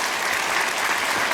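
A crowd claps continuously in a short, dense burst of applause for a reciter at a Shia Voice audition during Ramadan, with no voices over it.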